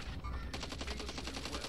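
Rapid automatic gunfire in a shooter video game set around a castle, a dense run of bursts that starts about a third of the way in and keeps going loud and close to the end, with no speech over it.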